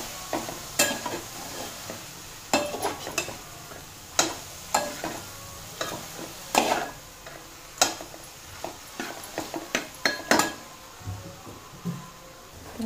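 Churi cooking in a pan on a gas stove, with repeated scraping and stirring strokes of a spoon against the pan over a soft continuous sizzle, close and irregular.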